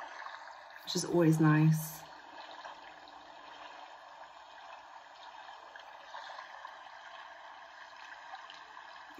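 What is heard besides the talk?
flowing stream nature sound played by Mudita device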